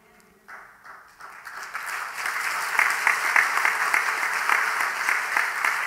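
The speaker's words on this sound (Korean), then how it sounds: "박수까지 치실 필요 없고요." A church congregation at a pastor's installation service breaks into applause that swells from scattered claps to steady, dense clapping filling the hall.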